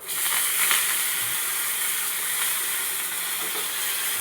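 Chopped curry leaves and coriander sizzle in hot tempering oil with browned garlic, a steady close crackling hiss with no voices.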